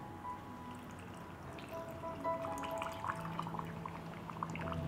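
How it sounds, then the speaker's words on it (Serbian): Salt water is poured into a glass jar packed with cabbage, giving a faint, steady trickle and gurgle with small drips, close by and quiet. "I sada ću teglu napuniti sa slanom vodom."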